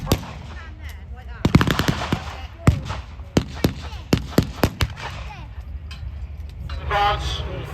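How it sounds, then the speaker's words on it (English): Mortars and rifle fire at a battle reenactment, with a rapid string of sharp gunshots and louder bangs, some in quick bursts, over crowd noise and distant voices. "Mortars being deployed. Desperate to take out some of the Axis riflemen."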